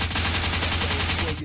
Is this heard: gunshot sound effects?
yes